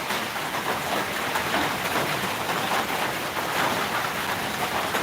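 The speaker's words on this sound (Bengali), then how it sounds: "বৃষ্টি হচ্ছে কি হ্যাঁ এখন একটু কমেছে তবুও আছে" Steady rain falling, a soft, even wash of broadband patter that holds constant throughout without pauses or voices.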